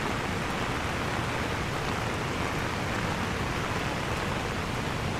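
Water from the Silver Waterfall (Thác Bạc) in Sapa, swollen in the rainy storm season, roars in a steady, dense, unbroken wash that stays loud and constant throughout.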